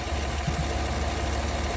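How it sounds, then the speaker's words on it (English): A 2020 Cadillac Escalade ESV engine idles after a water pump replacement, a steady, even low hum with a faint mechanical tick and no voices. "now I started the engine."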